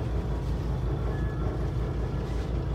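The engine of a cruise boat idles while the boat sits stopped in Mikawa Bay, a low, steady rumbling drone with a faint pulsing beat, continuous and moderately loud, with no talking.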